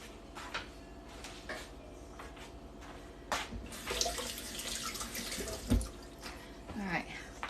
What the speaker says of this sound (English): I'm gonna rinse it off and rinse my hands off so I have no eggshells going in.